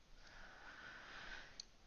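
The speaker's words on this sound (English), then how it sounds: "Now I've got the sniffles." A single soft sniffle, a short nasal intake of breath close by, over a quiet background.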